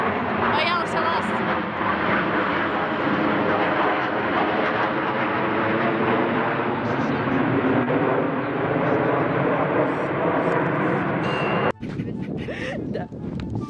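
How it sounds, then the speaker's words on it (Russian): Airplane engines drone overhead in the open sky at an outdoor equestrian event, a loud steady roar that persists under wind buffeting on the microphone and someone talking, cutting out briefly near the end. "На небе летают самолеты."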